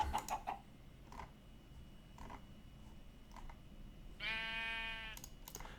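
A sheep bleats once in the Minecraft video game, a short wavering cry heard against faint background ticks and game ambience, with no talking.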